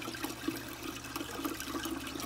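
Water rushes and gurgles steadily through the overflow piping of a custom aquarium sump filtration system in a cichlid fish room, a continuous close wash of flow.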